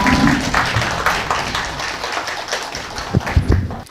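Applause at a Dongguk University Buddhist graduate school entrance ceremony, fairly loud and close, as a dense wash of clapping that thins toward the end, with a few sharper knocks and handling sounds.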